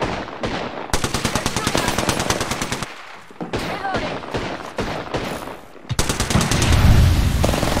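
Rapid bursts of automatic gunfire in a shooter video game, loud and close, with crisp repeated shots in long strings broken by short pauses and a heavier rumble near the end.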